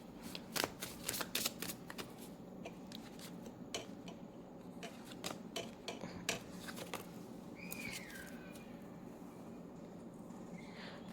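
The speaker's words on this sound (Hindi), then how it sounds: "तो पहले हम कार्ड्स ले लेते हैं आपके लिए।" Tarot cards shuffled by hand at close range, a quiet run of rapid riffling flicks and soft slides that repeats in bursts with brief pauses.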